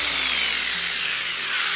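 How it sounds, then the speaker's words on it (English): A power drill bores holes in chipboard for a custom bedroom headboard, a loud, close, continuous high-pitched whine with gritty grinding, steady throughout without pauses. "it's time to drill the holes."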